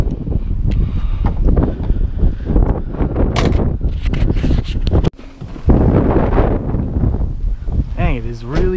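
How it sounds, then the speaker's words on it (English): Strong wind roars and buffets the microphone with a steady low rumble, broken by a brief lull, while people talk underneath. "Dang, it is really, really windy here today."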